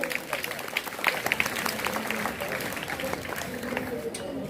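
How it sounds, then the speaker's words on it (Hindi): Applause from the crowd at a government high school Independence Day function for three students receiving prizes, a moderate steady patter of many hands, fairly close and even throughout. "जोरदार तालियां इन तीनों बच्चों के लिए"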